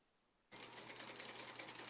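A sewing machine topstitches a quarter-inch line around a wallet pocket, starting abruptly and then running steadily and fairly close with a fast, even mechanical buzz and no talk.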